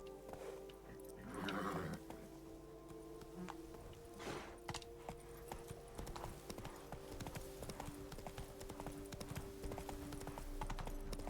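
Hooves of the horse Roach in The Witcher 3 clip-clop in a steady walking rhythm, quiet and close, with brief bursts of other game noise and faint background sounds mixed in.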